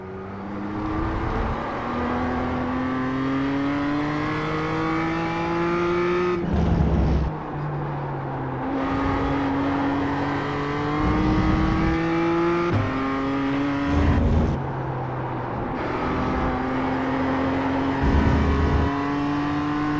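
A BMW M2 CSR race car circles Laguna Seca in iRacing, its engine revving steadily upward through each gear before brief drops at the shifts, a loud, continuous drone with no talk.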